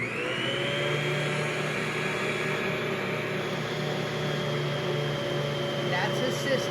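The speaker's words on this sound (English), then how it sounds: "I'm going to begin my mixer." A stand mixer whirs steadily while kneading half-wheat, half-white bread dough with melting butter, a constant close droning motor tone with a faint rising whine and no pauses.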